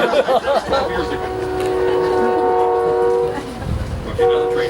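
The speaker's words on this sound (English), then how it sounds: "now the train's gone" A passing train sounds a long, steady horn blast over a rumbling, rattling rail background outdoors on a street, loud and close, with the rumble easing as the horn fades.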